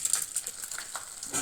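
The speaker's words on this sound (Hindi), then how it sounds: "सबसे पहले हम गोंद को फ्राई करने के लिए हम घी डाल देंगे" Small pieces of edible gum (gond) frying in a little hot ghee, a soft, steady sizzle with light crackling pops, close and quiet, with no talking.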